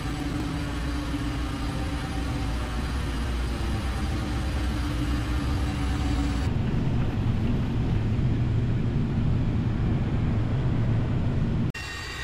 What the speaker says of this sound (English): you got a 747 rumbling towards you, so you better get off the runway